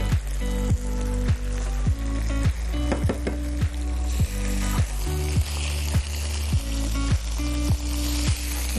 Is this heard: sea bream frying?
yes